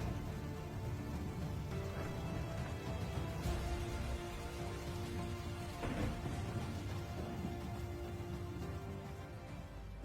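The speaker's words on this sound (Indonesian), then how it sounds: "Inilah hujan buatan dari Tuhan." Rain falling in an aquarium ecosystem, a steady low rushing patter with a couple of brief louder splashes, continuous and even, with no voices.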